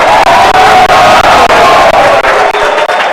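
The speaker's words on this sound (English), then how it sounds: "A round of applause to Mrs. Susan Aleja" A loud crowd at the Turkana women representative debate in 2022 applauds and cheers steadily, with whoops and shouts rising over dense clapping throughout.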